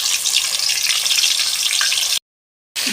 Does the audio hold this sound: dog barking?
no